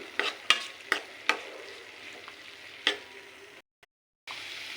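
Onions frying with turmeric, green chillies and garlic in a pan, a low sizzle punctuated by several sharp spoon knocks and scrapes, then a brief silent gap.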